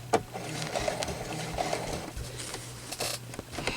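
A sewing machine stitches a quilt block in a short, faint burst of quick mechanical whirring and ticking. A few clicks are heard close by, with no talk.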